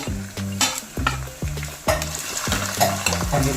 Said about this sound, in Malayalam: അപ്പോൾ നമ്മുടെ എണ്ണ ചൂടായി നമുക്ക് ഇതിട്ട് വറുത്ത് കോരി കോരിയെടുക്കാം